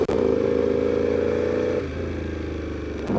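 A Ducati V4 R motorcycle engine roars loud and close under hard throttle with a steady high growl, then drops slightly in pitch partway through while riding in traffic, with no talk.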